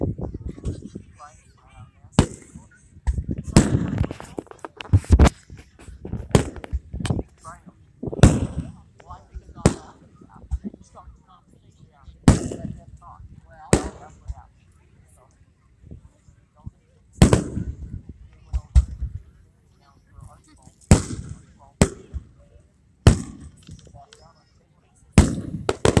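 Fireworks pop and bang in sharp, irregular bursts through a large outdoor firework event, some close and loud, others fainter, with people talking and calling out between the blasts.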